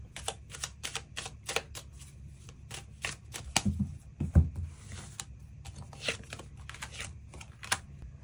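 Tarot cards being shuffled in the hands, a quick run of crisp riffling bursts and soft slaps repeating close up and unaccompanied by speech.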